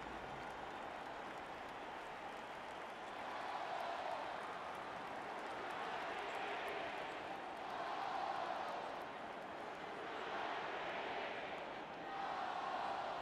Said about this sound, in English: I don't know what they're chanting in the crowd.